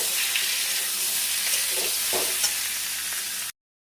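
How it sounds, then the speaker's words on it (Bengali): Boiled elephant foot yam pieces fry in oil in a wok, a dense close sizzle with occasional stirring scrapes for several seconds, then an abrupt cut to silence. "এটাকে কড়াইতে তেল দিয়েছি, তেল দিয়ে এটাকে ভালো করে ভেজে নেব"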